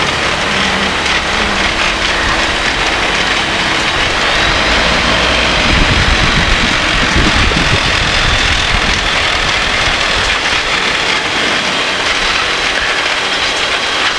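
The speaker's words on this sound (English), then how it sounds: "Now we're just going to taxi ourselves down to the other end of the runway." A microlight aircraft engine drones steadily and loudly as it taxis down a runway, with a constant rumbling hum and wind noise throughout.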